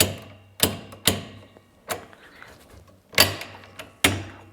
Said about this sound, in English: When I lift this up, these things are clicking in